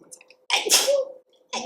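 A single loud sneeze bursts out at close range during a casual indoor chat, with a brief spoken word just before it and another voice starting right after.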